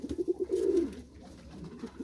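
Close, low cooing from a homing pigeon with red shoulders and pale yellow eyes: a rapid series of soft coos rolling into one longer drawn call, then quieter murmuring.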